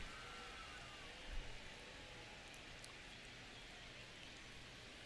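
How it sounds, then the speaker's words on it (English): Rain falling in a baseball video game, a steady soft hiss of rainfall at constant level with a brief low thump partway through, no talk over it. "there's the rain"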